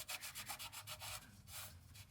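A rag wipes around the oil drain plug area on a Toyota 4Runner, giving a steady rhythmic rubbing and scrubbing close up, about a dozen quick strokes with no talk.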